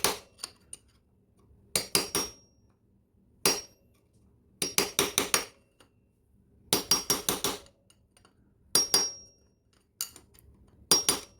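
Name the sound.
hammering screwdriver to pry open motocross chain link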